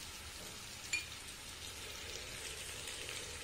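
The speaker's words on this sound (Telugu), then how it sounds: "మీడియం ఫ్లేమ్లో దీన్ని దోరగా వేపుకోండి" Onions with salt frying on a medium flame give off a soft, steady sizzle, quiet and continuous, with one small tick near the start and no voices.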